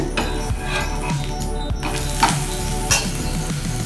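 A rice roti (akki rotti) fries in a pan with oil, giving a steady, close sizzle and hiss, with a few light scrapes and taps of a spatula against the pan.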